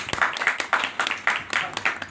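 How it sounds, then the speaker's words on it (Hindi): A small audience at a home poetry recital gathering claps briefly, a quick burst of sharp, close handclaps in an uneven rhythm. "मैं एक बार चाहूँगा कि आप लोग स्वयं अपने अपने लिए बहुत जोर से ताली बजाएं।"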